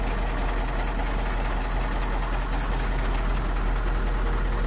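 A KamAZ diesel truck engine idles steadily in a village in Osh, a constant low rumble with a dense mid-range clatter that holds unchanged throughout, close and fairly loud with no talking.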